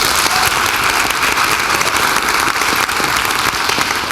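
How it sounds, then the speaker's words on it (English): Audience applause at a book launch for an opera-related book, a dense, steady wash of clapping from a sizeable crowd that holds evenly for several seconds without voices. "Another round of applause for you"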